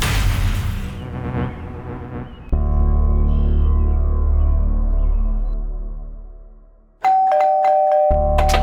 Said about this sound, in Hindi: क्यों इतनी घंटी मार रहे हो?